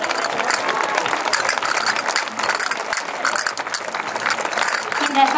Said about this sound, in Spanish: Un fortísimo aplauso para nuestro grupo